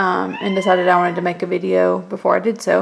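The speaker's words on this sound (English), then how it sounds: "so that's my cat" A house cat meows several times close by, its calls mixed in with a person talking over them.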